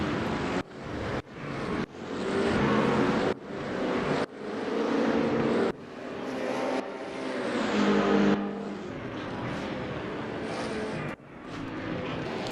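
Race cars lap Suzuka in a racing video game, engines whining and revving in repeated bursts with gear-change dips, fairly loud and continuous.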